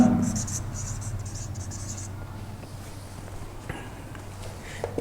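Writing with a marker or chalk on a board during a physics class lesson, scratchy strokes faint at the start, then a steady low hum and scattered soft taps; speech present at times.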